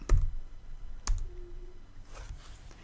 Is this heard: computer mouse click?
yes